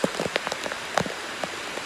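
Heavy morning rain falls on a street, making a dense, continuous hiss with scattered sharper drops pattering close by, no voices.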